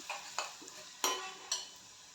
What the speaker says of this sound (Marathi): छान हे मसाले तेलामध्ये परतून घ्यायचे